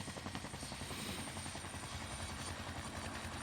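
A helicopter sounds steady and close, its rotor chopping in a fast, continuous pulse over a broad engine whine, heard alone and fairly quiet.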